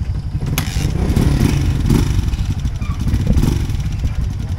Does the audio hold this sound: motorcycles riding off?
yes